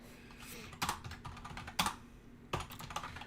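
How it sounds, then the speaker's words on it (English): Typing on a computer keyboard, close and quiet, with a few loose bursts of clacking keys separated by short pauses and no talking. "So pardon the typing"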